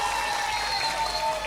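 Brief, steady patter of audience applause at an Islamic religious talk, moderately distant and continuous, with faint tonal hum underneath.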